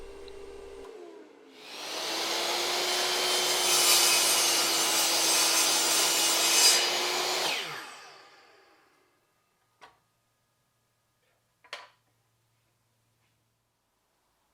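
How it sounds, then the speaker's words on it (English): A saw rips lengthwise through a piece of maple hardwood, splitting it in half with a steady, loud, broadband rasp lasting about six seconds, then running down and stopping, followed by two brief knocks. "I'm gonna start off by ripping into this piece of maple and basically splitting it in"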